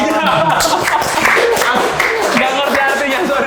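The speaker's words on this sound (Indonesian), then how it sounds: "Oke, tepuk tangan dong." An audience claps in a loud, continuous patter while voices talk over it throughout.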